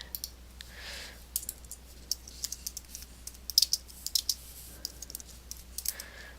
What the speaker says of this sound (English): once I start typing here,